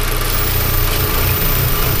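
A Volkswagen Golf GTI MK5 engine idling, producing a steady, fairly loud low hum with slight vibration and no change in revs, heard alone without speech.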